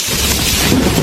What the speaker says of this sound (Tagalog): Umuulan na pa.